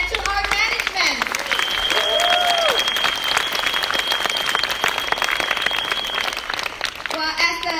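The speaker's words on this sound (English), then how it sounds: "So let's give a round of applause to ourselves and to our management." An audience at a sharing event claps in a sustained burst of applause, with a voice heard over the start and end and a faint steady whistle tone running through the middle.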